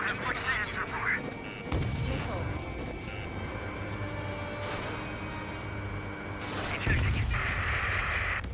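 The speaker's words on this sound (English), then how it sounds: "They're starting to fire blindly at us." Enemy gunfire in the Ace Combat 7 flight game during a mission battle, with sustained rumbling bursts and crackling fire. Jet engine noise and radio voices run continuously underneath.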